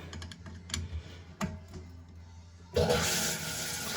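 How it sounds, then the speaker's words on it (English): A toilet flushes in a bathroom during plumbing work, starting with a sudden loud rush of water that keeps running steadily after scattered taps and clicks. "Flush away all of that crap"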